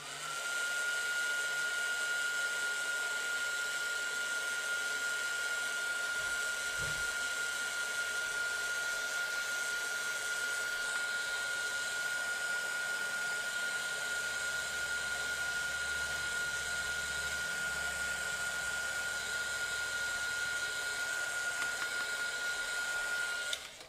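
A hair dryer blows steadily and continuously over a mixed media art tag, making a loud even whine and rush close by from start to finish with no talking.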